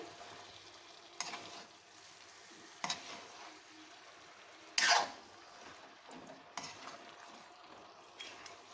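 Garam masala is stirred into a tinda (round gourd) curry in a pan: a few scattered spoon scrapes and clatters, one sharper and louder, over a faint low sizzle, with no talking.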